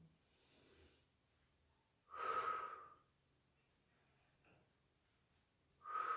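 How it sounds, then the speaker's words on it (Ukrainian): Slow breaths drawn in and pushed out through the nose during a breathing exercise, close and clear, with three separate breaths spaced a few seconds apart and quiet pauses between them. "І робимо вдих, видих, вдих, видих носом."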